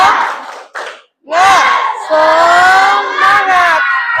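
A primary school class performs a rhythmic group chant with claps, many children's voices shouting together in bursts with short pauses, loud and close in a classroom.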